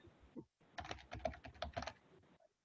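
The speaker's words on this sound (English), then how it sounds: "what you can do is just type in" A quick burst of keystrokes on a computer keyboard, close and crisp, clicking in an uneven rhythm for a couple of seconds while entering a search on a website, with no one talking.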